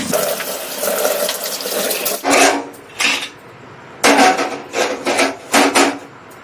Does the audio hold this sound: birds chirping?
no